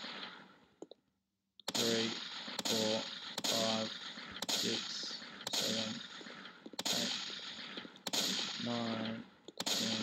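Gunshots strike a brick wall in a Unity 3D game, a regular series of about nine sharp, loud synthetic shots, each ringing with a short tonal tail, fired roughly once per second.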